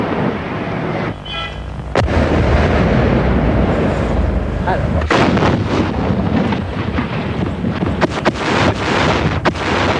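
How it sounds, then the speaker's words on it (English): Artillery and tracer shell fire in 1982 Lebanon War footage comes as heavy booms and cracks over strong wind noise and rumble, with a narrator's voice partly audible beneath the din. "Tracer shells homed in on suspected PLO positions."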